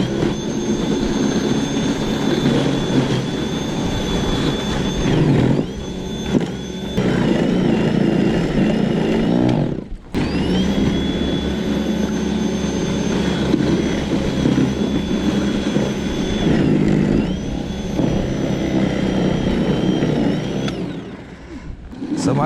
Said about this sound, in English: And here is the snow blower.